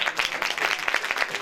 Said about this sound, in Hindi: जोरदार तालियां बेटी के लिए।